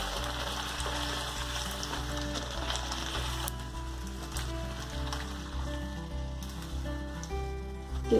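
Bhatura puffing in hot oil gives a steady close sizzle with a bubbling, rain-like crackle throughout, fairly even in loudness and without any talking.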